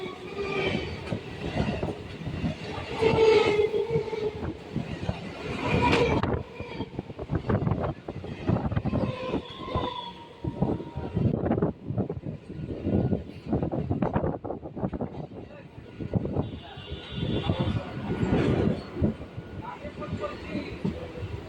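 A train pulls into Sealdah railway station with a steady, loud rumble of wheels and carriages, brief wheel squeals and rhythmic clatter over rail joints throughout, and faint voices in the background.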